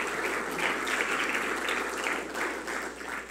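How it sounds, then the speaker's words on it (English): A chapel congregation gives a round of applause during a service, a faint, steady wash of clapping from many hands with slight rises and dips and no voices on top. "Give these guys another round of applause."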